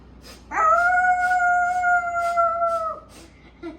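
A dog lets out a long, loud, sustained howl, holding a steady pitch for a couple of seconds before trailing off, with faint background noise.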